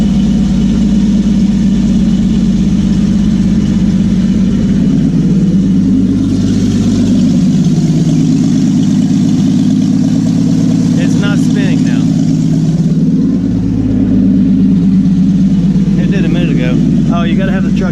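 A Willys truck engine runs loudly and steadily at idle, a constant low rumble with shifts in pitch as the clutch is worked and the gears spin. A voice talks over it at times.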